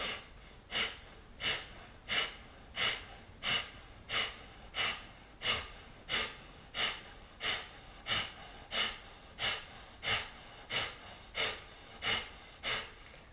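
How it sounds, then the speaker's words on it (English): Forceful nasal exhales in a yoga breathing exercise, about sixteen sharp puffs at a quick, even rhythm, close and fairly quiet, with no talking. "it's a forced exhale through the nose"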